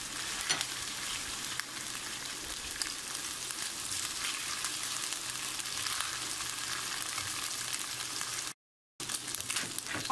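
Beef sputters as it is fried bhuna-style with ginger and spices in a pan, giving a dense, unbroken close-up sizzle that drops out for a brief moment near the end.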